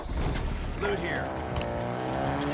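A car driving in Call of Duty Warzone on the PS5 Verdansk map gives a loud, steady engine rumble with a rising whine, mixed with game chatter and voices.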